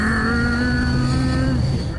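A Toyota Land Cruiser engine holds a steady, droning high pitch, then drops lower, as if revving and easing off, loud and close.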